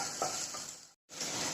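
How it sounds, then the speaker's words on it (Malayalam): Onions sautéing in a pan on a simmering flame for semiya upma, a soft continuous sizzle with light stirring scrapes, briefly cut to silence before the sizzle returns. "സബോളയുടെ പച്ചമണം മാറുന്ന വരയ്ക്കും, ഒരു ബ്രൗൺ കളർ ആകുന്ന വരയ്ക്കും നമുക്കൊന്ന് മിക്സ് ചെയ്തുകൊണ്ടിരിക്കാം."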